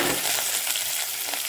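Fenugreek seeds frying in hot oil in a kitchen, a steady dense sizzle with light crackling and a brief stir near the start, close and continuous with no talking.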